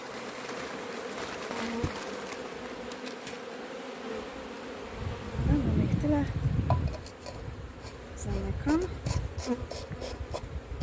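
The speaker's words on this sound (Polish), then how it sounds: "Około 300 pszczół powinno się wrzucić do tego pojemnika." About 300 honeybees buzzing inside a varroa mite tester container, a dense droning hum with scattered taps and rustles, while a person talks over it.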